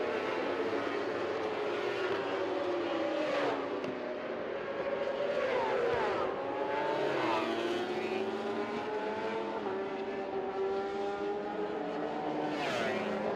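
Racing motorcycles at Mobility Resort Motegi in an Asia Road Racing Championship round, engines whining and shifting pitch as bikes brake downhill toward a turn, several machines overlapping at a moderate distance amid crowd and track ambience.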